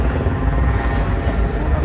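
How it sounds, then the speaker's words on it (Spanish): Steady broadband rotor drone of a helicopter hovering overhead above a closed-off street in Las Vegas, loud and continuous throughout with no gaps, a dense low rumble filling the whole moment. "y el helicóptero está arriba."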